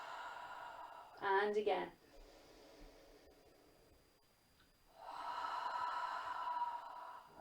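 Long, deep exhale breaths during a home yoga session, a soft airy rush late in the clip following a brief spoken cue, faint and close.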